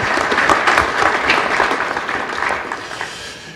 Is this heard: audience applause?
yes